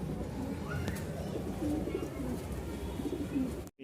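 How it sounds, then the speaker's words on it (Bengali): Pigeons cooing in a loft, soft repeated coos layered over a dense, continuous bed of cooing birds, close and steady for a few seconds. "এই যে দেখেন সব কবুতরগুলো আছে।"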